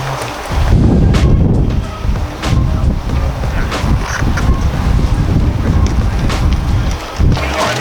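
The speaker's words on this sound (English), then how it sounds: "It is a breezy day today" Strong outdoor wind buffets a microphone on a breezy day, a steady loud rushing roar with gusty surges throughout and no speech, in a line outside a gun show in Tampa.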